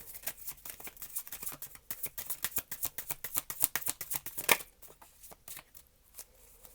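Tarot cards shuffled and pulled by hand, a rapid run of soft riffling flicks building to a sharp snap, then a few quieter scattered card slides, close and clear with no talking.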